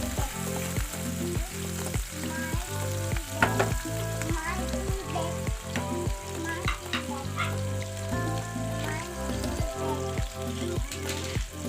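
Mushrooms frying in a pan for creamy chicken mushroom, a steady close sizzle with repeated rhythmic scraping and stirring knocks throughout, no talk over it.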